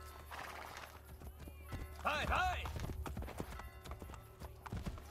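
Horse hooves clip-clopping in the video game Assassin's Creed Brotherhood, a steady run of close hoof beats with a horse whinnying midway, under someone talking.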